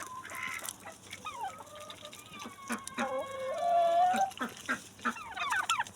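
A rooster crows in a long, drawn-out call mid-clip, surrounded by clucking and other chicken calls from a farmyard flock, fairly close and clear.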